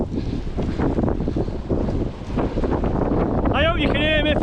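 Wind buffeting a microphone on a hilltop about 1100 feet above sea level in Lancashire, a continuous loud roaring rush with someone talking over it and a brief whistling tone near the end.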